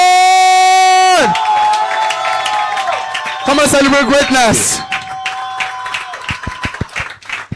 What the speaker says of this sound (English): with a standing ovation and a round of applause, let's welcome Smartan!